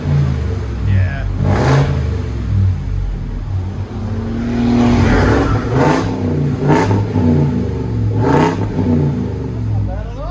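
A 2021 Ford F-350 7.3L gas V8 with no resonator revs repeatedly in strong bursts, its deep throaty roar rising and falling several times, loud and close.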